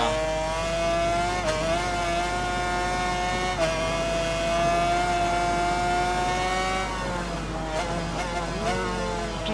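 A motorcycle in the Ride 4 racing game revs and holds a high engine tone, pitch dipping and climbing through gear changes across a continuous run.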